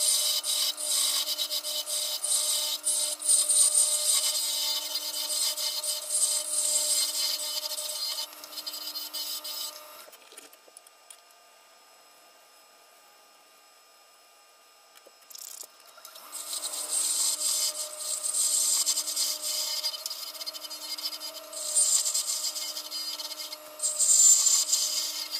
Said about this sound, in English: So the first thing I do is simply some spindle turning, make the Purple Heart pin that goes through.